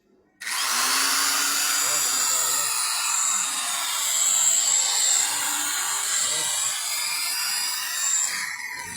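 A cheap 3-in-1 power grinder switched on for a test, its whine starting abruptly and holding a steady, loud, bright drone close by for several seconds.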